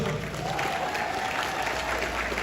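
Steady crowd applause for women being honored at an awards event, a continuous dense patter of many hands at moderate level with no clear talk over it.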